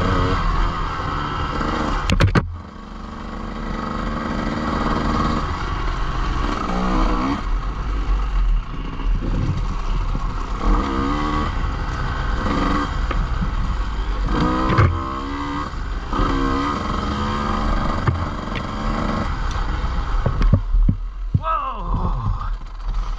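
Dirt bike engine on the Crosstimber Red Trail, revving and droning steadily close by with rising and falling pitch as the rider works the throttle, over wind and rattling, with voices now and then.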